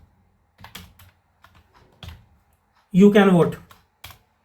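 Java code is typed on a computer keyboard in short, scattered bursts of key clicks, with a brief spoken phrase partway through.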